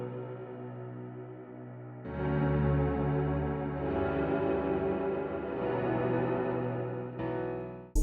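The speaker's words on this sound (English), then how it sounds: "at first it's a chorus, but then turns into this washed out reverb phaser knob" A sustained musical tone swells through a shimmering chorus, then blooms into a washed-out, sweeping reverb and phaser texture.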